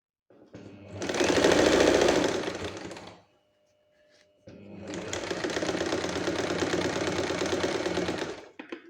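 Sewing machine stitching elastic onto cotton pants, two bursts of rapid mechanical whirring and needle clatter, a short run then a pause and a longer steady run, close and clear with no voices.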